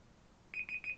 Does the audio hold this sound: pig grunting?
no